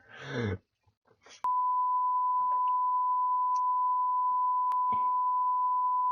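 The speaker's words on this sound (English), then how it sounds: "I'm bleeping all that, by the way." A steady, loud electronic bleep tone holds for several seconds after a brief burst of speech, with a couple of faint clicks along the way.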